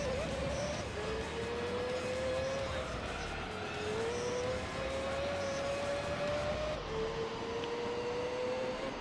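The LMP Dragon race car in Gran Turismo 3 holds a steady, loud engine whine that climbs through each gear and drops sharply at shifts, running continuously with a voice talking over it.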